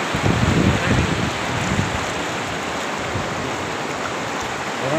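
Floodwater rushing across a broken road in Fatehabad, Haryana: a steady, loud broadband roar of churning water, close and continuous, with no voices over it.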